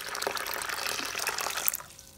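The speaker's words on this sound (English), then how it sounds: "So we're gonna be pouring some warm water." Warm water is poured steadily for an ACV rinse on locs, splashing and trickling continuously up close before tapering off near the end.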